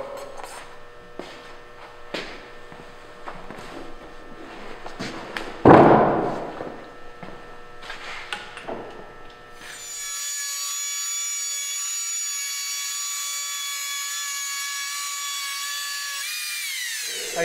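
Timber for timber framing is worked by hand with knocks, rubs and a loud thud, then an electric planer starts and runs steadily with a high, close whine before it spins down.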